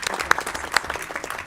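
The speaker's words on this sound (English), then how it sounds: "So big round of applause for Rashida." Applause at a school board of education meeting for a staff member, a dense patter of hand claps from the room with a couple of sharper close claps standing out, steady throughout.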